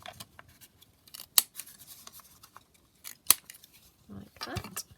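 Scissors cut paper for a beginner's junk journal, a few crisp snips scattered over five seconds with rustling paper in between, close and fairly quiet.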